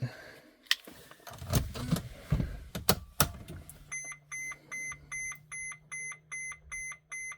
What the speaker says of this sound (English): The beeping is just the electronic test before you start it.